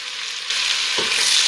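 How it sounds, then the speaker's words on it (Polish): Lean bacon sizzles and crackles as it fries in a pan, a steady bright hiss that grows a little louder halfway through, close up with no talking. "Boczek zaczyna świerczeć"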